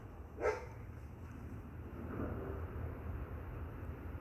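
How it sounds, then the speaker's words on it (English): A dog barks once from a distance at two in the morning near a rented house next door, a short faint burst over steady low night ambience. "that dog over there barking"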